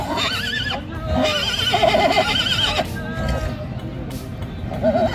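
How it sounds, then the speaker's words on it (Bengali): A horse neighs and whinnies in repeated, wavering calls during a tour near Cox's Bazar, Bangladesh, apparently excited at the sight of a cow, loud and fairly close, with hoof clip-clop and faint crowd babble in the background. "ঘোড়ার ডাক সুন্দরই লাগে, কেমন জানি একটা।"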